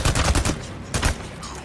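Gunfire rings out in the video game Days Gone, a rapid burst of loud shots, a short pause, then a second burst, close and punchy with no talk.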